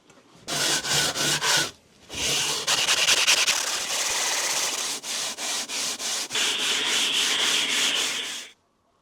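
Hand sanding smooths the rough body of a homemade heat treating oven, producing loud, close rasping strokes in steady back-and-forth bursts, with a short pause early on and a brighter, quicker run of strokes near the end.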